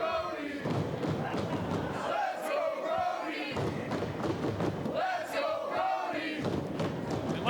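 A wrestling crowd roars and chants in support of Brody King, a loud, sustained wall of voices with rising swells and ring thuds, an announcer talking over it.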